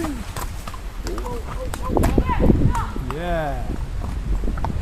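Horse hooves clip-clop in a loose walking rhythm during a horse ride, partly buried under close, lively talk and laughter from the riders.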